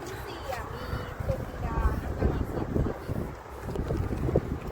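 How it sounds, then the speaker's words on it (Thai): Strong, cold wind blows at the top of a Thai temple, buffeting the microphone with an uneven, rumbling roar while people talk. "ลมข้างบนโคตรเย็นเลย ลมแรงมาก"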